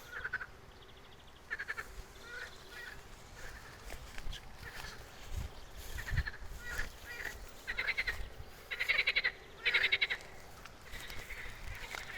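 Frogs at a small dug pond croak in raspy, pulsing bursts that come and go over a quiet outdoor background, several calls at moderate distance.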